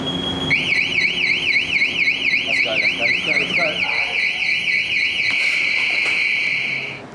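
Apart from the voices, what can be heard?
building alarm going off on a rooftop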